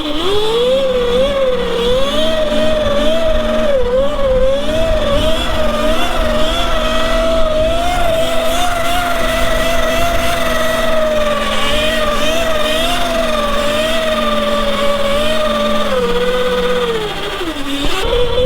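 Surron Light Bee electric dirt bike fitted with a metal chain conversion kit, whining loudly and steadily under throttle for a long stretch, its electric motor tone rising and falling slightly, with metal chain noise close by.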